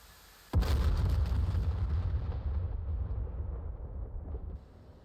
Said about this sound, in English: You can watch our bombs come in.